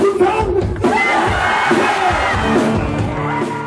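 A dense crowd at a rock concert in a Hongdae club roars and whoops loudly and continuously, a close, full wall of cheering voices with shouted peaks.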